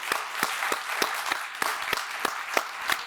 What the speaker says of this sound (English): I want an applause to you right now,